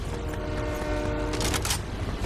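A moving train in a video game, its horn sounding as a sustained, loud chord over a heavy rumbling of wheels on track, with hissing bursts toward the end.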